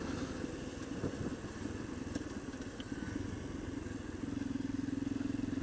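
A motorcycle rides along a country road with a steady, moderately loud engine drone and wind noise, the engine note rising slightly toward the end.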